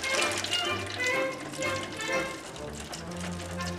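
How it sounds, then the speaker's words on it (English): Boiling water poured into a large pan to make a water bath around a pumpkin cheesecake pan, a steady close gushing stream with some splashing, heard alongside music. "now we're gonna fill up the big pan with boiling water"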